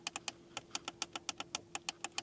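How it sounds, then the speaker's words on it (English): A rapid series of small, crisp clicks from a Porsche Panamera's volume button, evenly spaced and close, repeating steadily with no voices. "clicking sounds here for the volume button"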